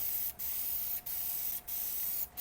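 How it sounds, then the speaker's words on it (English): Steady hissing of a spray gun used in a fiberglass tub and shower floor crack repair, continuous and close, broken by four short pauses where the spray cuts out before resuming. "now we're spraying again"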